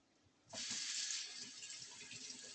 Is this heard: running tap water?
yes